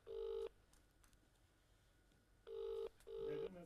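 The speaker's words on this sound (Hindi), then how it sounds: "बेल जा रही है लगातार" Three ringback tone bursts of an unanswered outgoing phone call, the first and the last two close together with a gap between, heard clearly over faint room hiss.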